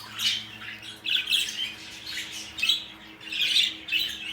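Pet birds kept in a breeding pair setup squawk in repeated sharp, harsh bursts at close range, several calls spaced across a few seconds with a faint steady hum beneath and no talking.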